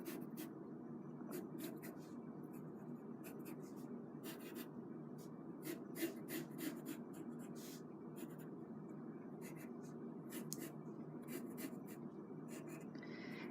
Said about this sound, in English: You can take your tissue paper and draw your letter that you've already drawn out.